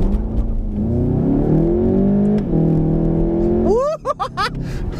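A 2019 VW Golf GTI Rabbit in sport mode launches hard off the line: the engine climbs loudly through the revs, drops briefly at a paddle shift, then surges again, ending with quick rev blips.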